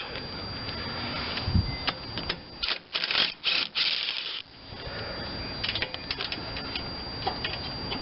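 Socket wrench working at nuts on an Ariens 30-inch snowblower with a Briggs and Stratton 1650 engine, giving a run of quick close ratcheting clicks in bursts with short pauses, fairly quiet and alone.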